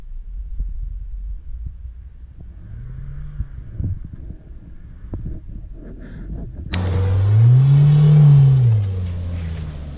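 A Mahindra Thar off-road rumbles at low idle, then its engine surges loudly into a rising, sustained rev as it accelerates before easing back down.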